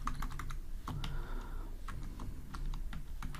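Rapid typing on a computer keyboard while writing Kotlin code for an Android app, with steady clicks and clacks at close range and a few heavier keystrokes.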